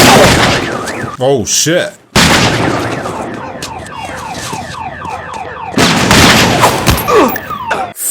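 Gunfire from a crime drama episode, sharp bursts and cracks at the start and again near the end, mixed with a layered dramatic soundtrack, while a viewer exclaims in surprise over it.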